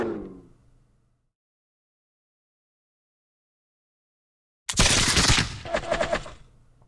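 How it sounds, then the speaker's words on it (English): Musket volley in Campaign 1776 at Cowpens, heard as a sudden loud crackling burst of rapid overlapping shots after several seconds of silence, with a fading rumble at the very start. "Nice enfilade fire."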